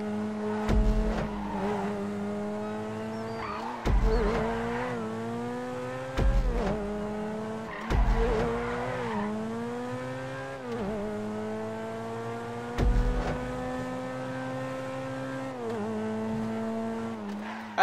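Racing cars in Grand Theft Auto roar continuously with engines rising and falling through repeated gear shifts, each upshift marked by a brief drop and thump before the revs climb again, loud and close with no talk.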